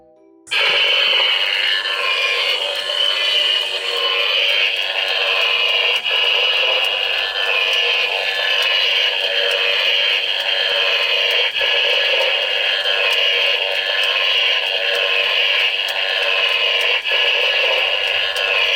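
A handheld high-voltage box prop switched on, giving a steady, loud electrical hiss and buzz that starts abruptly and holds unbroken for the whole stretch, with faint crackles, no voices.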